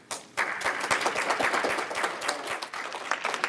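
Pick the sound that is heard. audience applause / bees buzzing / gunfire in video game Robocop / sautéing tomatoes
audience applause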